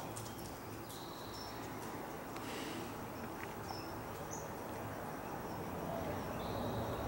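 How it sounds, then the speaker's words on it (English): Faint night ambience of frogs and crickets chirring with occasional distant bird calls over a steady hiss, no voices nearby. "Maybe you can hear the frogs and the crickets and the birds."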